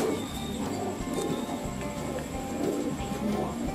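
Pigeons being fed at night coo steadily nearby, a soft layered murmur of several birds with repeated low calls over faint rustling.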